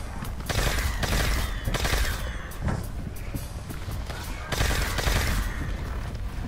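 Rapid gunfire in a video game while shooting at zombies or robots, repeated loud bursts with brief gaps between them, close and mixed with other game noise.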